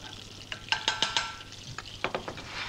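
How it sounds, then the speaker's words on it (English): Clarified butter heating in a non-stick pan on a fair heat, giving a soft steady sizzle with scattered pops and light clinks of a utensil against the pan, close by and fairly quiet. "Clarify butter into the pan on a fair heat to start."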